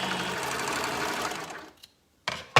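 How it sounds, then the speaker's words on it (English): A sewing machine runs in a quick steady whir while stitching outer fabric with right sides together, then stops, followed by a short mechanical clack and a final burst. "So with right sides together, I'm sewing the"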